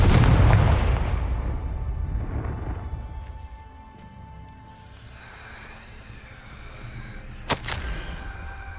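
The Confringo spell in Hogwarts Legacy sets off a loud, deep explosion boom right at the start, which fades into a long rumbling tail with ringing tones and one later sharp crack.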